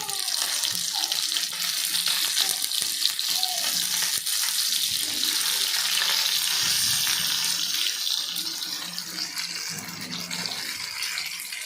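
Fish shallow-frying in a pan, a continuous bright hiss and crackle of hot oil throughout, fairly soft and steady, with faint clinks.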